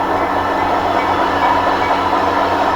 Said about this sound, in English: The red and silver engine is noisy, big and strong, and faster, faster, faster, it is pulling us along.